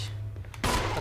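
Gunfire in the Resident Evil HD Remake video game, a single loud, abrupt blast partway through that rings out briefly over a low ambient hum.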